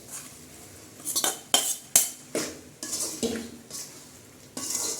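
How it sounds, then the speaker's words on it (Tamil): Metal spoon stirring macaroni pasta with masala in a pan, sharp clinks and scrapes at uneven intervals over a faint sizzle, close and clear. "நல்லா கிளறி விடணும்"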